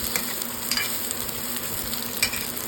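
Carrots sautéed in a pan for a simple chicken curry, a steady close sizzle with intermittent utensil stirring scrapes and taps throughout.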